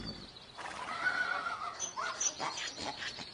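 Horses in a farm stable give a loud, shaky whinny that rises and falls, followed by shorter snorts and calls, heard close by with no talking.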